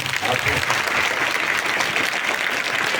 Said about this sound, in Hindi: तालियां आपकी कम हो गई।